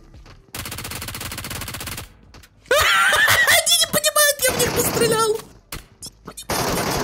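Rapid automatic gunfire in Metro Royale, delivered as a fast rattling burst, then loud shouting and excited voices with more scattered shots and clatter.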